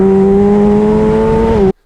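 A racing motorcycle at Jerez circuit accelerates out of a corner toward the end of the grandstand, its engine a loud, close, steady drone that cuts off abruptly.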